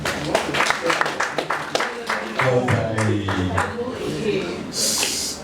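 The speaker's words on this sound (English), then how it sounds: "There's a round of applause for that." Brief applause breaks out at a Lagos police public relations talk, a patter of claps at the start that gives way to someone speaking.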